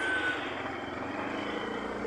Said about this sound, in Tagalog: Dito po may mga dumadaan mga truck.